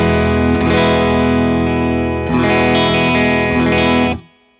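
Electric guitar run through a Line 6 HX One pedal set to a gearbox effect followed by a compressor, producing thick, sustained chords with a processed, slightly driven tone, one chord ringing then another struck, loud and close, then cut off.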